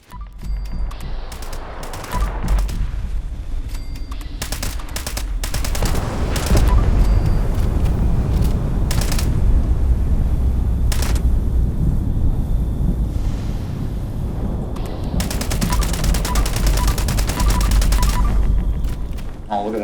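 Gunfire from a weapon in Fallout 76 pours out in long, loud, rapid bursts against a boss creature, heavy booming fire with brief pauses and rumbling impacts.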